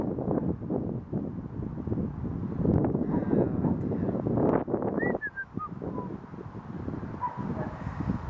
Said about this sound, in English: Go away, wind.